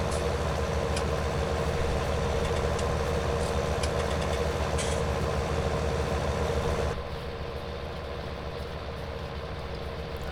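A tractor engine idles steadily in a farming video game, a loud, continuous mechanical drone that drops slightly in level near the end.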